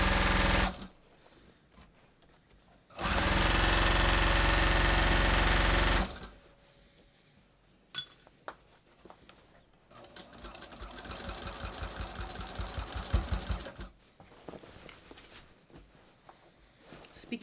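A sewing machine sews over the heavy center back seam of jeans in bursts: one loud fast run, then slower labored chunking stitches as it climbs the thick seam, close and with no talking.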